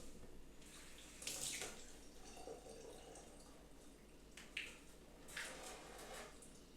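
A tap runs quietly while an icing tool is rinsed at a kitchen sink, with a soft steady water hiss and a few brief splashes.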